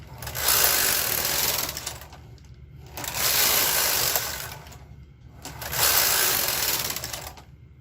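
A domestic knitting machine carriage sweeps slowly across the bed three times, knitting rows of fancy stitching for a sweater front, each pass a loud sustained mechanical rush separated by short pauses.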